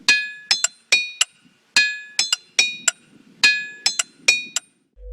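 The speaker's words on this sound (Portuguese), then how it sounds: "Se bater em uma rocha com um martelo, ouvirá como se fosse um sino." Hammer strikes ring out from ringing rock in quick pairs and clusters, each hit leaving a bright, bell-like tone that hangs briefly before the next blow.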